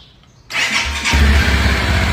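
A cold new motorcycle kicks into life after a half-second of near silence, then settles into a loud, steady idle close by.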